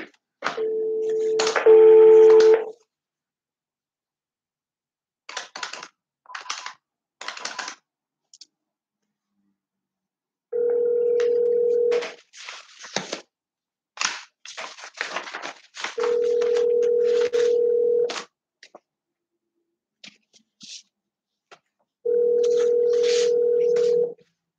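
Office telephone being dialed: clicks and short button beeps between several long steady tones, each tone ending abruptly, clear and close against silence, with no talking.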